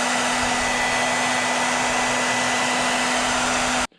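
A heat gun blasts hot air to set paint on a jointed fishing swimbait, a loud steady whooshing roar with a constant hum that runs alone for about four seconds before cutting off abruptly.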